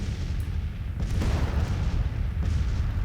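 Civil War artillery fire and shell hits in Grand Tactician: The Civil War, a dense low rumble of distant booms with a couple of sharper impacts standing out, no voices.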